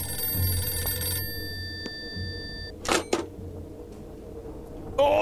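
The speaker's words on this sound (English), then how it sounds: "Now the phone's ringing." A telephone bell rings inside a video game, a bright ringing burst that cuts off early, followed by a few sharp clacks and thumps in a quiet room.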